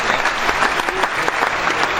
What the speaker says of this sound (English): That was the longest hand clap ever.